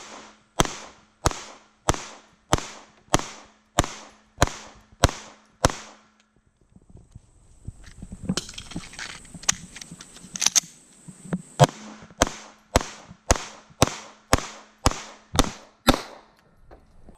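Sig P365 pistol firing in a thousand-round challenge: two brisk strings of loud, sharp shots, about nine then eight evenly spaced, with a pause of handling and magazine rattle between them.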